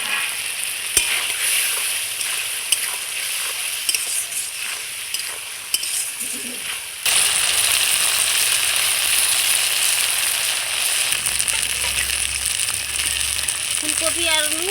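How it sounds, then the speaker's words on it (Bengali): Fried potatoes stirred into spiced masala in a hot pan for a cauliflower and potato curry, giving a continuous loud sizzle with scraping stir strokes that briefly intensifies partway through. "এইবার আমি ভেজে রাখা আলুটা এর মধ্যে দিয়ে একটু কষিয়ে নেব।"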